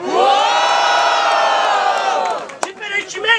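A large crowd at the Batalha dos Estudantes rap battle in Guarulhos, São Paulo, roars with loud, sustained cheers and whoops. The cheering dips briefly, then scattered shouts and bursts of noise follow.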